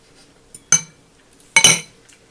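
Cutlery clinks against a bowl while someone eats, two distinct bright metallic taps with a faint touch in between, close and otherwise quiet.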